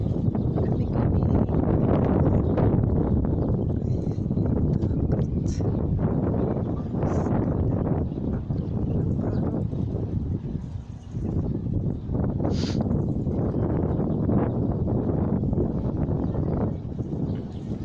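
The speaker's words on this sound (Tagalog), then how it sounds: "Sarap naman sa hangin." Strong wind buffets a microphone on a rooftop overlooking the sea, a loud continuous roar of gusts that swells and dips, with faint voices in the background.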